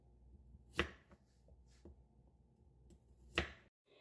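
Knife cutting garlic cloves in half on a cutting board, with two sharp, distinct chops and a few softer taps between them, close and clear against a quiet kitchen.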